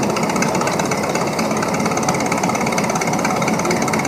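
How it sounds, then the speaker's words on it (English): A 1946 UTU tractor runs at a parade, its engine chugging steadily and loudly with a dense, rapid knocking rhythm over broad noise, with no talking. "Got a 1946 UTU owned by John Knopsel."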